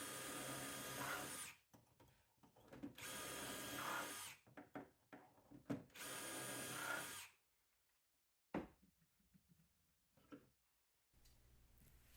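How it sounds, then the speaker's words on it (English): Power drill bores shelf pin holes in a cabinet wall through a Jessem dowelling jig, several loud bursts of whirring drilling lasting a second or two each, separated by pauses, clicks and quiet handling. "we're going to move the jig up, reinstall the positioning pin, and drill out all the same holes"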